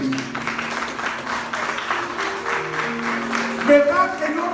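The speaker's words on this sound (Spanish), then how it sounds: "Denle un aplauso fuerte a Cristo" A church congregation claps during a Spanish-language sermon, a steady wash of applause running beneath sustained voices and tones, with a brief louder swell near the end.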